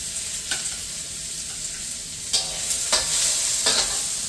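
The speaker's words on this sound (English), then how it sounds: "Let's start adding some stuff in here. Let's go with some onions and garlic first." Onions and garlic frying in a pan on a portable butane cooker, a steady close sizzle with a few sharper crackles and stirring scrapes near the end.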